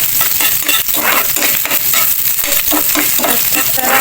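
Garlic, onion and carrot sautéing in a hot pan for pork giniling, a steady close sizzle broken by repeated stirring scrapes, with no talking.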